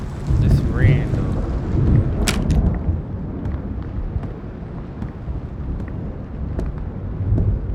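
Steady rainfall with low rumbling thunder in the video game Road to Vostok, continuous and fairly loud, with a short sharp crack partway through and no talking.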